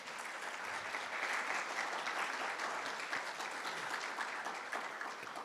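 Spectators at a Guide Dogs for the Blind class graduation give a steady round of applause, a dense, even wash of clapping that holds at full strength from start to finish.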